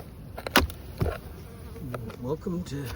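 Bees buzz steadily around an opened hive box set slightly sideways, in an outdoor yard in late winter, with a few louder passes close by and occasional soft handling noises.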